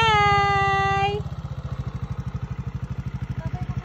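A motorcycle engine thumps in a steady, rapid rhythm close by as the rider pulls away, with a voice calling out over it at the start.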